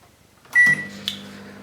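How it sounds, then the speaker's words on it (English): A microwave oven close by heating tortilla wraps gives a short electronic beep, then a click and the low steady hum of it starting up, with another small click shortly after. "In the microwave for about 15 seconds, those wraps"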